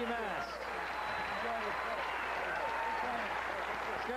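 A tennis crowd in Mashpee, Massachusetts applauds steadily after Bjorn Borg breaks a long losing spell against Jimmy Connors, the clapping dense and sustained with voices and cheers mixed through it.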